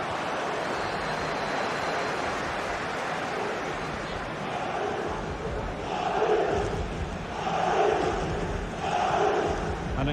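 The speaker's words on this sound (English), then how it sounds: "Well, just listen to the crowd." Stadium crowd noise from a football video game, Barcelona against Real Madrid, a broad roaring wash that swells in rhythmic surges toward the end, steady and fairly loud with no clear talk on top.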